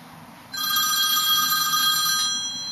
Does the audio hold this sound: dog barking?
no